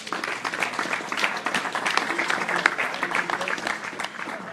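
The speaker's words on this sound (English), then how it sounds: "Give them a big round of applause." Crowd applause at a Pennsylvania coaches convention presentation: continuous mixed clapping from many hands, moderately loud and steady throughout.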